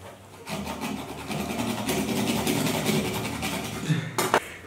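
Rough, rhythmic sawing and scraping of a serrated bread knife against a hard coconut shell, steady back-and-forth rasping close up, ending with a couple of sharper knocks.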